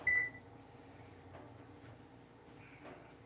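A single short electronic oven beep sounds at the start, then only a quiet hum fills the kitchen.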